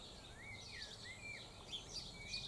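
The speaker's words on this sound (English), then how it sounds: "Listen to all those happy birds." Birds sing and chirp outdoors among silky oak trees in early summer, repeated thin whistling calls near and far over a quiet background with faint insect buzz.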